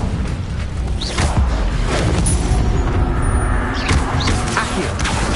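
Incendio fire spell blasts from Hogwarts Legacy, loud whooshing booms and thuds layered over dense combat noise, several bursts in quick succession with no clear pause.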